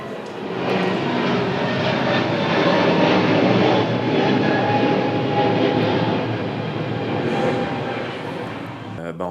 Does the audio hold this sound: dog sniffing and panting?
no